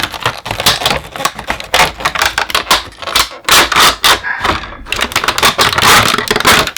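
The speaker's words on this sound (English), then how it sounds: "Sometimes I wonder who thinks up these designs for this blister packaging." Stiff plastic blister packaging of a DC Universe Classics Hawkman action figure being pried and torn open, giving a dense run of sharp, close crackles and snaps that continue without a break.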